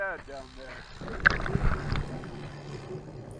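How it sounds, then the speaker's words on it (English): A low, steady engine rumble of long-tail boat traffic heard underwater off Koh Phangan, Thailand, with gurgling water and a brief splashy burst in the middle. "A lot of boat traffic, as you can hear in the background right now."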